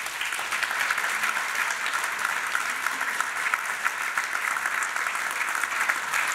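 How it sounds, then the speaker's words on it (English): Audience applause at a talk on developing British cycling champions, steady dense clapping from a sizeable crowd lasting throughout with no voices over it. "please give Tom a round of applause"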